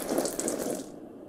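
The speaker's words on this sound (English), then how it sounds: "Water plants." Water runs steadily while plants are watered indoors, a brief hissing gush that cuts off before the end.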